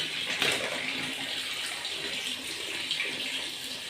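Running tap water gushes steadily, with brief splashy surges as okra is rinsed under the stream.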